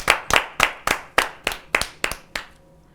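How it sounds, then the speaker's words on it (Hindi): Rhythmic hand clapping welcomes a poet onto the stage at a Hindi kavi sammelan, about ten crisp, evenly spaced claps that fade toward the end. "जोरदार तालियों से स्वागत है।"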